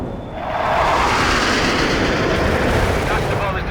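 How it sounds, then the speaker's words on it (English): Cluster bomb strike explosions in the World in Conflict video game, heard as a dense, continuous roar of overlapping blasts and rumbling that swells and holds, with a voice partly buried beneath. "Cluster bomb is delivered."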